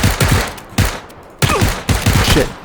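Gunfire in PUBG, heard as several loud separate bursts of shots spaced roughly half a second apart, close and punchy, with no voices over them.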